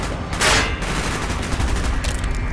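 Bursts of rapid gunfire crackle loudly in Call of Duty: Black Ops, with a sharp volley early on and more shots later.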